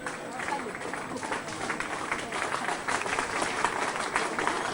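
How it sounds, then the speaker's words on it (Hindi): Nursing and paramedical students rise to their feet and applaud loudly at a Darbhanga gathering, producing a dense, continuous wash of clapping that holds steady for several seconds, with some voices mixed in. "जोरदार ताली से अभिवादन करते रहे खड़े होकर नर्सिंग पैरामेडिकल के सभी छात्र छात्रा।"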